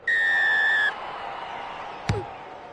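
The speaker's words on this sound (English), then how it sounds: "Referee's whistle to get us underway." In a rugby video game, a referee's whistle gives a single long, sharp blast to start the kick-off, followed by crowd murmur and a brief thump.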